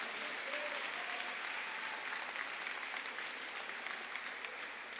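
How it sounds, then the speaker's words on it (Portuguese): A church congregation at a religious congress applauds loudly, a thick continuous wash of clapping from a large crowd that stays even throughout. "Aplaude bem forte."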